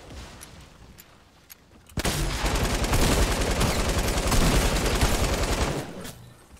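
Gunfire in the video game Fortnite, starting abruptly with a dense sustained burst of rapid shots lasting several seconds before cutting off, loud and close.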